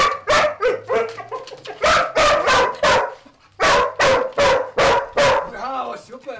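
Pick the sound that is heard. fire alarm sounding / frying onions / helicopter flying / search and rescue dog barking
search and rescue dog barking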